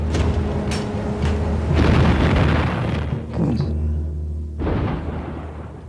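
Three warship cruisers, HMS Belfast among them, open fire at 11,000 yards: loud, dense, rolling booms and heavy rumbling blasts fill the whole stretch, overlapping one another with hardly a pause.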